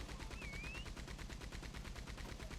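Sustained gunfire in the Western shooter Red Dead Online, a fast, evenly spaced train of shots running the whole time at a faint, distant level.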